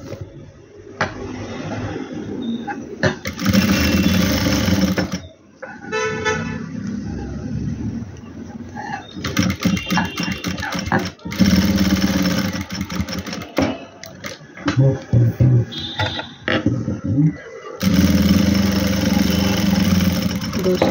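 A sewing machine stitching fabric seams for a halter-neck garment, running in loud whirring bursts separated by short pauses, with no voices.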